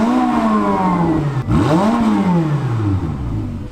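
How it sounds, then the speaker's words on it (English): A Ferrari 488 Pista engine revs hard, pitch rising and falling in two sweeping surges, loud and close with no talking. "start the car up and rev it a bit"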